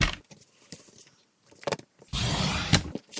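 Paper trimmer blade slicing through cardstock while making a Stampin' Up! Christmas card, a short rasping cut after a few small clicks and handling taps, close and fairly loud.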